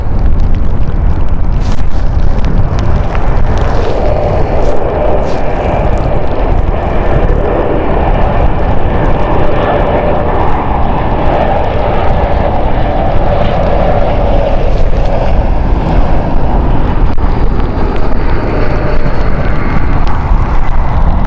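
Brand-new ITA Airways Airbus A220 jet at London City Airport, a loud, continuous engine roar with a broad rumble and a faint whine, sustained at close range throughout, no voices.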